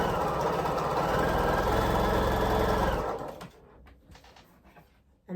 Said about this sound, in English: Let's sew this half square triangle.